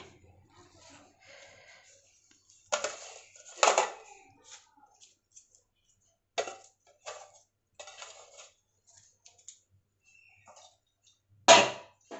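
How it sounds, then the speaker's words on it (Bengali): Jute leaves are dropped into a pot of half-boiled red lentil dal, making scattered rustling handling noises and several sharp clinks and taps of a spoon against the pot, with quiet gaps between them. "এখানে পাট শাক আমার ছাড়ানো হয়ে গেছে, আর ডালটাও হাফ সিদ্ধ হয়ে গেছে। আমি পাট শাকটা দিয়ে দিচ্ছি।"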